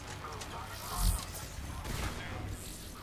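Automated turret firing on enemies in a sniper video game set in a crowded bar, a dense burst of gunfire swelling around the middle of the stretch over steady background battle noise.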